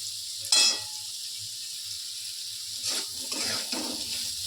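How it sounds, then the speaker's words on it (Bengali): Potatoes frying in a pan make a steady, close sizzle throughout, with a brief louder burst near the start and scraping stir sounds later, while a low motor hums underneath. "আলুটা ভাজা হয়ে এসছে কিছুটা"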